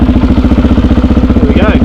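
A 1986 Honda XR250 single-cylinder motorcycle engine fires after a kick start and runs with a steady, even, close-up thumping idle throughout.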